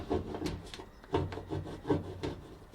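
Adhesive residue is scraped off the door seal area of a Whirlpool or Kenmore electric dryer in short, close rubbing strokes, roughly five rasping passes in an uneven rhythm with no talking.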